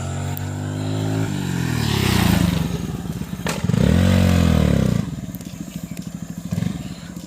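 A new 'super scooty' scooter revs hard during stunt and wheelie attempts, its engine note climbing and falling through several loud throttle blips, then settling into a pulsing, uneven idle; no one speaks.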